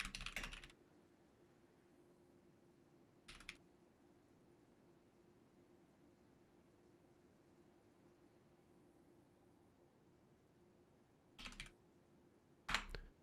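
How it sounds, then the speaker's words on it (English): Faint, quiet keyboard typing in short bursts, one at the start, one brief patch near the middle and two near the end, separated by low steady room hum. "Vigorous typing."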